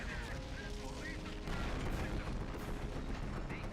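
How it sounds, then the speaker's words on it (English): Mortar bombardment in a co-op war video game, a constant dense rumble of distant explosions and gunfire, low and muffled, steady throughout without distinct single blasts. "We're sending mortars to you to fucking bombard"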